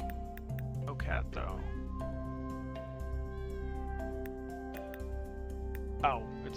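A cat meows in the video game Hidden Paws, with two short clear meows, one early and one near the end, over a steady tonal music bed while a person speaks.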